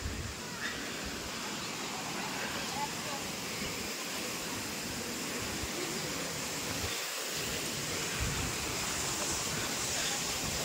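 Waterfall at Rock Garden in Darjeeling, heard as a steady, broad rush of falling water throughout, fairly faint and distant, with a couple of brief low thumps.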